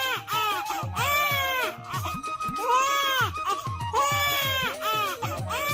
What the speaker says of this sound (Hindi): कुछ ही देर की पीड़ा के बाद बच्चे के रोने की आवाज आती है।